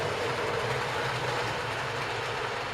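A B17 model train runs along the main line of a loft model railway, a steady continuous rolling rumble that holds at an even level throughout with no talk.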